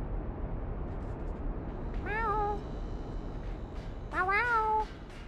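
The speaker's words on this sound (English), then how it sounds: "You guys hear my cat in the background?" A cat meows twice in the background, each call a rising-and-falling wail lasting under a second, heard over steady low room noise with no talking.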